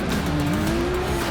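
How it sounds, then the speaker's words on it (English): Race car drifting at an Atlanta event, tires squealing in a long wavering howl over a loud engine roar, close and continuous. "Jeff Jones, that big drift energy, he is showing everybody that right now"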